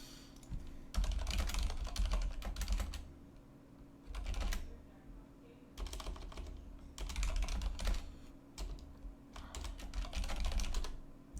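Typing on a computer keyboard in bursts of quick key clicks separated by brief pauses, close and clear, with a steady low hum underneath and no talking.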